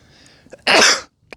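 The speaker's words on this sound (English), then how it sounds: "gotta sneeze." A single loud, close sneeze bursts out sharply after a brief preparatory breath, lasting about a third of a second before fading into near silence with a faint trailing exhale.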